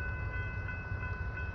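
Intermodal freight train rolling past, a steady near rumble with a sustained high tonal whine, continuous and fairly loud over the short stretch.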